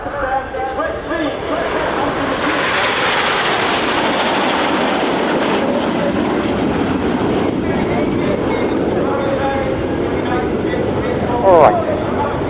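An RAF Red Arrows display jet passes at the RIAT airshow with a loud, sustained roar that swells and fades, while a commentator talks over it.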